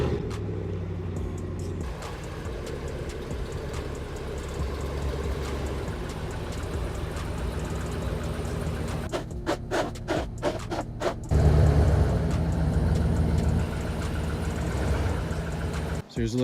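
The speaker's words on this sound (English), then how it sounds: "Gotta move this rig out of the way and pull this guy onto the driveway" A pickup truck idles and rumbles as it is moved and pulled onto a driveway, a steady low engine drone with a burst of scraping clicks midway and a louder surge near the end, close by.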